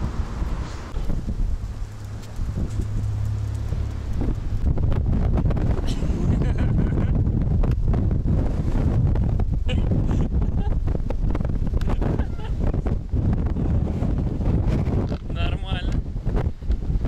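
Strong wind gusts outdoors buffet the microphone with loud, continuous roaring, while people talk now and then over it.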